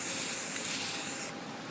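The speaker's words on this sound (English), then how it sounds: "There, that's how you spray paint." Aerosol spray paint hissing steadily onto a metal balcony railing, a continuous broadband spray that holds for over a second and then eases off slightly, close and alone with no talk.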